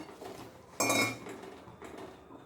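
Peanuts tipped into a pan for sesame jaggery chikki, a single brief rattling clatter of nuts hitting metal, close and fairly loud, then a quieter scrape.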